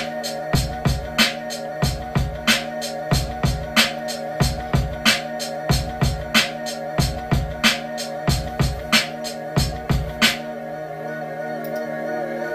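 Hip-hop beat built on a laid-down sample with programmed drums, a steady looping groove of punchy kicks and crisp hits over a sustained sampled bed, playing alone before the drums drop out near the end.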